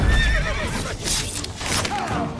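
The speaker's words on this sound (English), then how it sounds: "Even the horse is having a go." A horse in The Witcher 3 whinnies loudly amid a fight, with a few wavering neighs over hoof clatter and combat noise.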